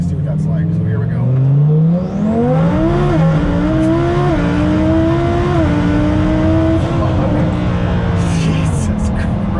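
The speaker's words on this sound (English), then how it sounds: "I'll do a quick little blast from like first gear just so you can kind of see what that's like." A twin turbo Lamborghini Huracan on custom forged wheels accelerates hard from first gear, its loud engine note rising steadily in pitch with a brief dip at a gear change, heard close from inside the car.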